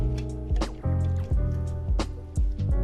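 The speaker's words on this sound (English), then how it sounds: "Now we're moving our sauteed onions and capsicums to our slow cooker" Sautéed onions and capsicums are moved into a slow cooker, giving wet squishy plops and drips that come in several bursts over steady background music.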